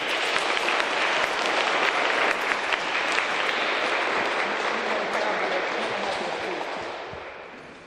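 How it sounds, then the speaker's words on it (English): Children and adults at a school Veterans Day program give sustained, loud applause, a dense wash of hand claps that holds steady before fading out at the end. "Girls and boys, let's give them another round of applause."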